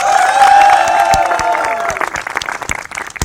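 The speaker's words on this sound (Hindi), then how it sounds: "शेर खान के लिए सच में जरा भरपूर तालियां" A studio audience on a Punjabi variety show gives Sher Khan hearty applause. Loud clapping with some cheering rises over a sustained tone, then thins into scattered, uneven claps.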